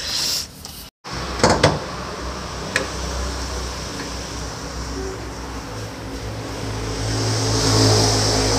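The hood of a Suzuki Karimun Kotak car is opened, giving a sharp latch clunk followed by a couple of close metallic knocks, then a steady outdoor hiss.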